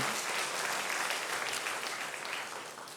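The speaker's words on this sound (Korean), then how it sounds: "우리 이분들을 위해 다 박수로 한번 경배하겠습니다" Steady applause from a church congregation during a Sunday morning service, loud and continuous for the whole stretch, fading slightly near the end.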